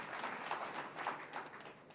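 Audience clapping for protesters displaced by the Tata dams of Maval and Mulshi, a steady ripple of many hands with a few louder swells, moderately distant.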